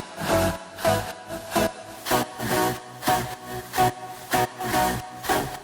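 A chopped, pitched vocal sample in the style of Max Martin's production for Ariana Grande's "Into You", repeating as short rhythmic ooh bursts over a steady pulsing beat, loud and upfront.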